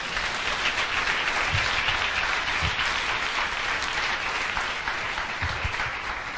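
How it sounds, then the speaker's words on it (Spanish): A church congregation applauds loudly and steadily throughout, a dense, sustained clapping from a large crowd with no break and no voices rising above it. "Den un aplauso fuerte al Señor."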